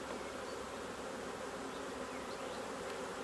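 Honey bees swarm and buzz densely over an opened hive on a cold day, a loud, unbroken droning hum that fills the air with no voices.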